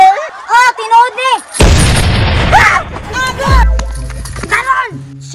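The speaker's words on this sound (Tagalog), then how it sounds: "pabuthan sila nako niyang kanyo" A lantaka bamboo cannon fires during a caroling visit, giving one loud, deep boom with a long rumbling tail midway, between and under people talking and shouting.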